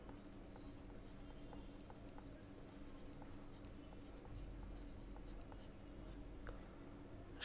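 A pen scratches steadily across paper while a math problem is worked out, making a faint, continuous run of small strokes and taps close by, without any speech.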